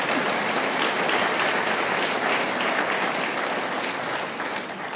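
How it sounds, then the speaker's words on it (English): A lecture audience gives a hand of applause honoring a longtime University of Virginia figure, dense continuous clapping from a large crowd, loud and even throughout. "That deserves a hand of applause."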